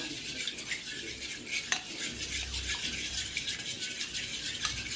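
Fish pieces are tossed with turmeric, red chili powder and salt in a metal dish, with close scraping and clinking of a spoon against the vessel in a busy, uneven rhythm.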